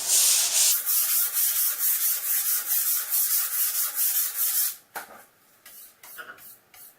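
Sandpaper rubbed by hand over a PU primer finish, a rapid rhythmic scratching of back-and-forth strokes, close and loud, then softer scattered rubs toward the end.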